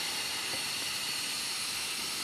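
A loud, steady hiss of steam and water blowing out continuously through open cylinder petcocks on an Allen steam engine, broad and unchanging, with no voices.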